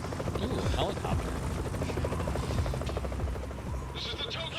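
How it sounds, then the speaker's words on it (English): A helicopter in Yakuza: Like A Dragon beats steadily overhead, a loud, continuous rotor thumping and whine filling the scene, with voices talking over it. "Ooh, helicopter."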